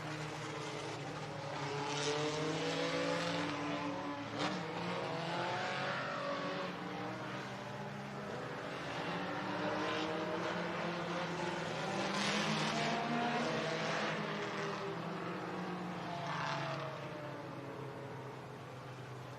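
Race cars run laps on the Talladega Short Track during the 35th annual Ice Bowl weekend, a steady loud roar of several engines with rising and falling revs as cars pass, continuous throughout.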